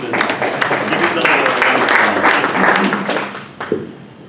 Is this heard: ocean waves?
no